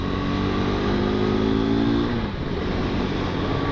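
Race bike engine on a solo motorcycle ride holding a high, steady note with a slight rise in revs before easing off, loud and close over continuous wind rush.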